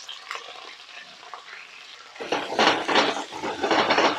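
Chicken stir-fries with carrots, chilies and cabbage in a hot pan, starting as a quiet sizzle before the vegetables go in and the frying turns into loud, crackling hiss with tossing and stirring.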